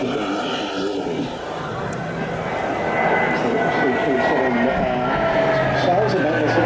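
A tactical battlefield airlifter flies low at the Avalon Air Show 2025, its propeller engines a broad steady drone that grows louder, with an announcer talking over it.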